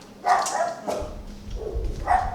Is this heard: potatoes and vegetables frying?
no